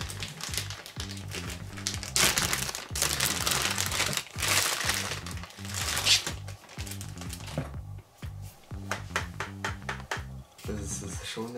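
A Fox O'Neal neck brace is unpacked from its packaging: crinkling plastic, rustling and handling knocks come close up in repeated bursts with short pauses.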